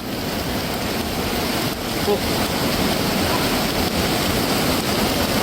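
Flash flood water rushing down from the hills, a loud, steady, broad roar of torrential water close by, continuous and unbroken with no distinct voices over it.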